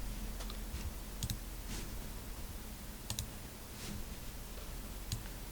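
A few light key clicks on a computer keyboard, scattered in short bursts, quiet and close over a low background hiss.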